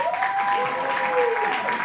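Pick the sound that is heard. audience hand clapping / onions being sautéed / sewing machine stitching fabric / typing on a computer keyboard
audience hand clapping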